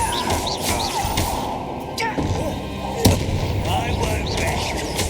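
Repeated Confringo blasting-spell explosions from the Hogwarts Legacy video game, with loud crackling bursts and booms stacked over a constant roar of combat effects, one sharper blast standing out midway.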